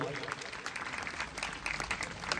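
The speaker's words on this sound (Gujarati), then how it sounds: "એડવાન્સમાં તાળીઓથી વધાવીએ" A crowd applauds steadily to welcome a program sponsor at a community event of an Ahir education society in Rajula, with continuous dense clapping throughout.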